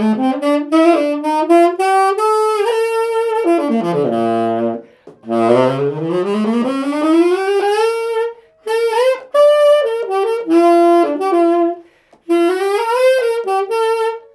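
A solo Yamaha saxophone plays a flowing melodic line with sliding runs and sustained notes, close and clear, pausing briefly between phrases.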